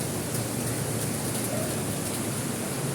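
Steady rain pours down in a dense, unbroken hiss, constant in loudness throughout with no voices.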